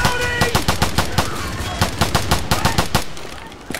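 Rapid bursts of rifle fire from MK47 and SG552 rifles in Left 4 Dead 2 crack out in a dense, fast rhythm of sharp, loud shots, with a brief pause near the end before a last few shots.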